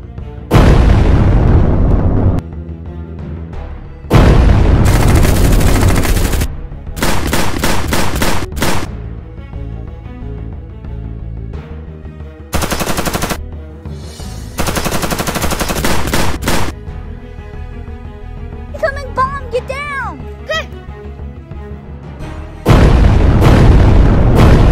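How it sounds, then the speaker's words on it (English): Loud bursts of gunfire and booming explosions from an air raid battle in a World War game, with rapid machine-gun volleys alternating with heavy blasts and brief lulls, no talking. "Get your gun and start shooting."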